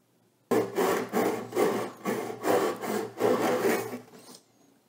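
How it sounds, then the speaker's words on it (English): A fine Japanese-style pull saw cuts into the neck joint of a vintage Yamaha FG-75 acoustic guitar, giving about seven steady rasping strokes close up before stopping. "I'm just going to use the smallest saw I have, which is a very fine pull saw, Japanese style"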